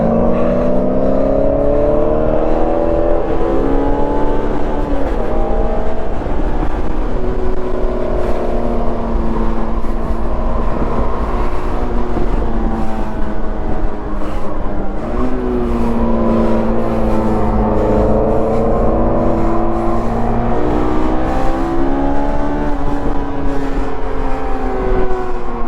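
A big-wing Chevrolet Camaro and a stock Honda S2000 race on track, their engines rising and falling loudly through repeated upshifts and throttle changes without pause.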